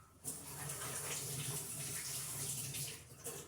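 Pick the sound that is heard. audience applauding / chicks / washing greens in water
washing greens in water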